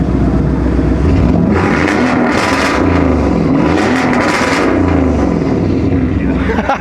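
A car engine idles, then revs up in a couple of rising surges to around 3,000 rpm and drops back, loud and close, with people talking over it at a street car meet in LA.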